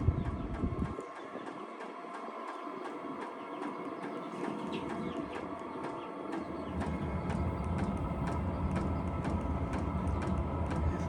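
Vevor diesel heater ramps up, a low rumbling combustion roar building in strength over several seconds and becoming steady, with faint ticking and background noise and no talk.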